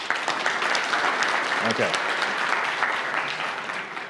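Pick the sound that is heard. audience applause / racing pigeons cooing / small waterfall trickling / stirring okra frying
audience applause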